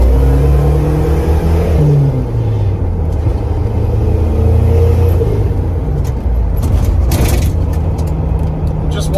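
A turbocharged Mercury Capri RS engine with SVO parts roars loudly close by, its pitch climbing and dropping as it revs toward 6,000 rpm, with a constant heavy rumble.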